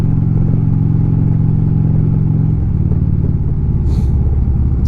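A Harley-Davidson motorcycle engine runs steadily during a ride, a continuous low, close rumble that shifts its pitch slightly partway through as the revs change, with no one talking.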